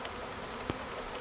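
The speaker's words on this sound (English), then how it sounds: "there's a lot of bees right in here, and they're sort of around the main trunk." A swarm of bees gathers around the trunk of a tree on a front lawn, giving a dense, steady buzzing hum that fills the whole clip, with one brief louder pass.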